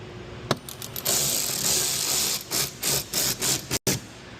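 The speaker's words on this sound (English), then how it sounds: "So you take your 8mm socket. You're going to start at the top." Quick bursts of ratcheting from an 8mm socket wrench tightening a bolt on a splash guard of a 2019+ Dodge Ram 1500, close clicking in several short runs with brief pauses.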